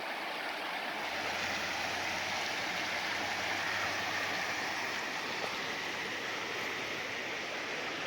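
A small V-shaped waterfall at the Boiling Springs Furnace site, giving a steady, soft, continuous rush of flowing water with no voices over it.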